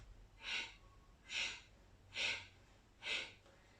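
Heavy breathing during an upper-body yoga exercise, four strong, even exhalations spaced about a second apart, close and breathy over a quiet background.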